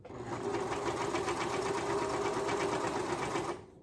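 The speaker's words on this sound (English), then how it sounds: "Now I'm sewing up the front." A sewing machine runs steadily stitching up the front of a garment, a fast even mechanical whir for several seconds before stopping.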